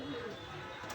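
A breeding pair of Pakistani pigeons, one male and one female, gives a low, soft coo. A person talks over it throughout.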